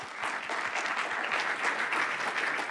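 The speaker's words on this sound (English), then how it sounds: "Please give a round of applause for Anka." Audience at a wellbeing conference applauding to welcome a speaker onstage, steady sustained clapping from a sizable crowd at even volume throughout.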